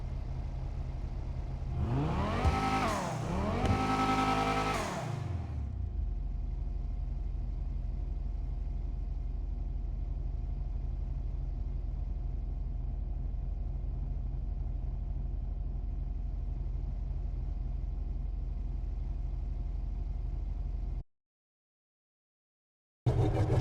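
Bravado Banshee 900R sports car in a video game, engine revving loudly in two quick rising bursts near the start, then settling into a steady low rumbling drone that holds for a long stretch before abruptly cutting out.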